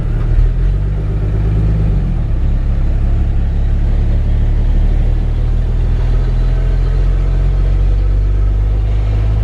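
A 1954 Chevrolet 3100 five-window pickup's 235 six-cylinder engine runs steadily, a loud close low rumble with a brief pitch dip early, then an even idle throughout with no talking.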